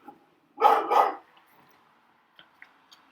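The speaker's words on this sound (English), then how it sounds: "Sorry if you heard my dogs" Household dogs give a quick pair of close, loud barks, followed by quieter faint yips and scattered noises in an otherwise quiet room.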